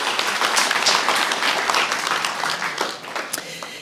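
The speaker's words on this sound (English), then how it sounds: "Yes, some applause." An audience applauds at a guide dog graduation ceremony, dense steady clapping that fills the room loudly and then begins to thin out toward the end.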